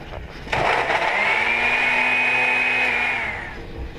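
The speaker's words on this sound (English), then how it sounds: "I have added a little bit more water to my blender because it was stuck" A kitchen blender whirs loudly for about three seconds, blending salsa ingredients with added water, a steady high motor whine that starts abruptly and winds down at the end, close and alone.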